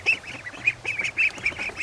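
Flighty homestead ducks quack in a rapid, fairly close series of short nasal calls, some overlapping, with a low background murmur of other fowl.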